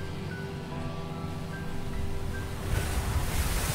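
Sea surf and wind rush past a speeding boat in the visual novel game Summer Pockets, a steady wash of water that swells louder toward the end, with a faint tonal hum underneath.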